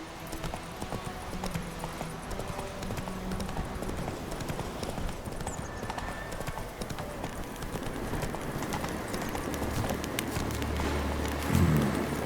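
Horse hooves galloping in The Witcher 3, a steady, continuous clatter of hoofbeats close by and loud, with ambient game sound underneath and a brief snort near the end.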